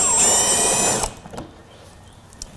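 A power drill with a Torx 30 plus bit backs a bolt out on a 2021 Ford Bronco during hood light installation, a loud steady whine for about a second that cuts off abruptly, followed by faint handling clicks.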